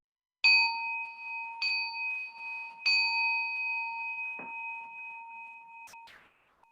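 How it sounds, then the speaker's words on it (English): A singing bowl is struck three times to open a Sunday meditation service. Each bright, sustained ring overlaps the next and slowly fades in a quiet room, with a few faint knocks near the end. "with the ringing of the bowl, we begin our sacred service"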